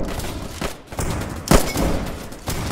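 Enfield rifle shots in the Roblox game Trenches: a few sharp, close reports, the loudest near the middle, over dull thuds and background game noise, with no talking.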